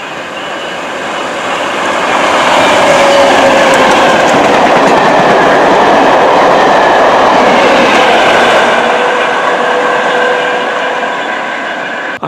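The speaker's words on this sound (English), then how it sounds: "We did get the Class 73 locomotives flying through with the 4TC unit." Class 73 locomotives hauling a 4TC unit pass through a station platform at speed, a loud sustained rush of wheels and rail noise that swells over a couple of seconds, holds steady, then fades slightly toward the end.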